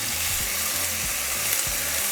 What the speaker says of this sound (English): I'm just going to saute it for a couple minutes.